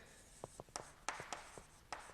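A pen scratches out notes during a biology lesson in quick, faint strokes and taps, with short scribbling bursts broken by brief pauses, close and quiet with no voices.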